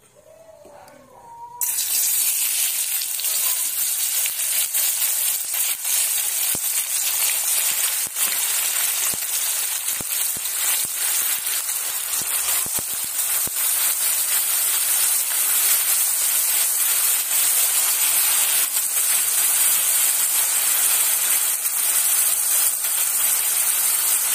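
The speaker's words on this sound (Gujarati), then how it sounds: "હવે આપણે તેલ ગરમ થઈ ગયું છે તો આપણે ડુંગળીને સાતળી લેશું" Onions sauté in hot oil for a Gujarati onion sabji, a quiet start giving way to a sudden, loud, continuous frying hiss that stays close and unbroken throughout.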